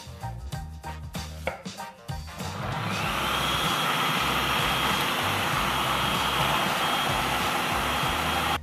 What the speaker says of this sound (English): now we get everything into our food processor, starting with our onions.